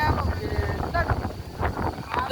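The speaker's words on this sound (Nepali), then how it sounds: "डेन्जर हावाहुरी लाग्यो यार" A strong windstorm at an outdoor picnic, its gusts buffeting the microphone in close, loud, uneven rumbling bursts that rise and fall throughout.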